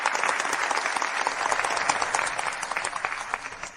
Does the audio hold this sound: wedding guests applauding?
yes